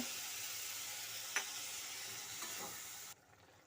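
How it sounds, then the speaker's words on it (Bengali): Spices, including red chilli powder and garam masala, sizzle with winter vegetables in a pan for vegetarian khichuri. The frying is a faint, steady hiss with a couple of light stirring clinks, then it cuts off near the end. "সব উপকরণ ভালো করে কষিয়ে নেব আর অল্প একটু জল দিয়ে দেব"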